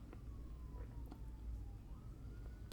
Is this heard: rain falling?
no